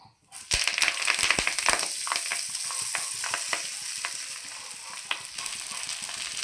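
Moringa leaves fry in a couple of tablespoons of oil in a pan, crackling and sizzling steadily, with sharp pops and spatula scrapes scattered throughout. Close and fairly loud, with no talking.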